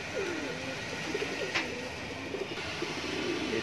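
Border high flyer pigeons at a bird sale in Mumbra, Thane give soft, low, repeated coos in close succession over a steady background hiss, with a brief sharp click near the middle.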